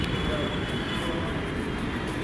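A Delhi metro train rumbles past on an elevated Noida-bound line, a steady, loud low roar of wheels on rail with a faint high squeal, continuous through the whole stretch.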